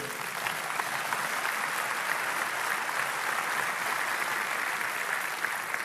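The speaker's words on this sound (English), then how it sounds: "You can clap. Go ahead." A church congregation claps steadily throughout at a sermon on lifelong marriage, the applause dense and even at moderate loudness, with no voice rising above it.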